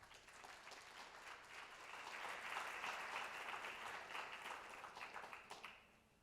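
A conference audience at Asan Plenum 2024 applauds to welcome Dr. Feulner. The dense clapping swells, holds steady for several seconds, then thins out and fades at the end.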